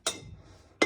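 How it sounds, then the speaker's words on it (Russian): Wine glasses in a rented apartment clink twice, the light, bright chimes spaced almost a second apart with near silence between them. "Бокалы"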